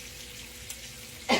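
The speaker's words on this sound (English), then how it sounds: "I'm just frying me 2 pieces of bacon" Two pieces of bacon fry in a pan with a soft, steady sizzle, and a brief louder burst of crackle comes near the end.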